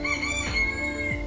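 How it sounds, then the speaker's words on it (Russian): A rooster calls nearby in a museum henhouse in Antalya, a short throaty crowing sound standing out clearly over quiet outdoor background noise. "Вон петушок стоит."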